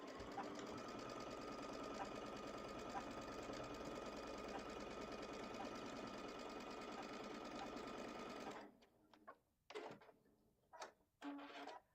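A sewing machine stitches the final patchwork piecing seams of an arrow-pattern quilt top, running in a steady continuous whir for about eight seconds before stopping, followed by a few short handling noises and bursts.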